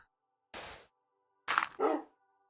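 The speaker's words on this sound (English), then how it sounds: "Now he's all barks." A dog barks in three sharp, close bursts with short silent gaps between them, the last two coming quickly one after the other, in an otherwise quiet room during a Minecraft livestream.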